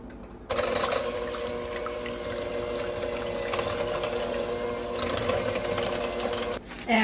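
Milk and vanilla instant pudding mix being blended together in a bowl with a steady, continuous whirring buzz, likely from an electric mixer, that runs loud and unbroken for several seconds before cutting off near the end.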